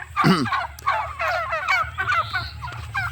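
A farm turkey gobbles repeatedly in loud, rapid bursts, close by, with a low steady hum in the background.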